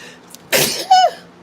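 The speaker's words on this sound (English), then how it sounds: "Look, I gotta sneeze." One person sneezes once close to the mic, a short sharp inhale followed by an explosive burst, then a brief voiced trailing sound.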